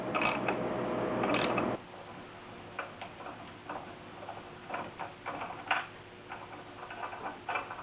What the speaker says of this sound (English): I wouldn't say that was my best thread tapping